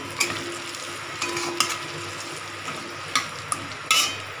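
Potatoes frying in oil in a pan: a steady bright sizzle with scattered sharp clicks and scrapes as a utensil stirs them against the metal, close by and without speech.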